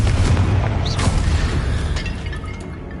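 A fiery blasting-curse explosion from the Hogwarts Legacy video game: one heavy, loud boom with a brief crackle, then a rumbling low tail that slowly fades over a few seconds.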